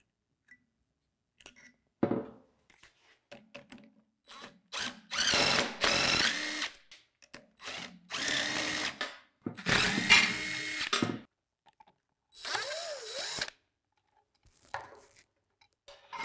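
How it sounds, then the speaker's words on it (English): A power tool, likely an impact wrench, takes bolts off a pipe in repeated loud bursts of whirring and rattling, each lasting one to two seconds with quiet gaps and small handling clicks between them. "So I'm going to grab a wrench and let's get these taken off."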